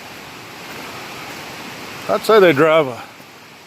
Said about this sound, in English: Here we got a small waterfall today.